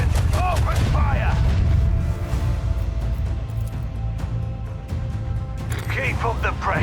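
Ship cannons fire in a Warhammer 40k space battle game, a dense fusillade of heavy booms and blasts rumbling loudly throughout, with a voice speaking over the barrage.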